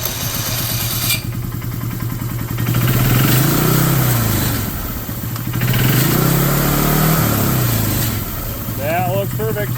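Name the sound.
John Deere ATV engine starting and running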